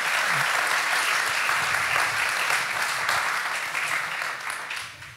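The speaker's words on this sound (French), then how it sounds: "je crois qu'on peut vraiment applaudir ce plan" An audience at a literary evening in Chamonix applauds in a steady, dense wash of clapping that tapers off toward the end.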